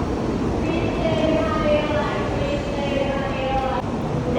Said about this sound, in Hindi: पीछे जो ट्रेन जा रही है ये बुलेट ट्रेन से